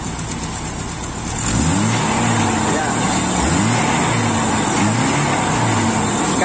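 Car engine revved while diagnosing a rough, misfiring idle that won't settle, rising from a steady idle into a loud, sustained rev held close to the mic with a wavering pitch.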